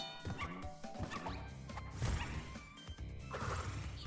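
Crash Bandicoot 2's small bear creature gives a few brief yipping barks amid squishing thumps and the running game music.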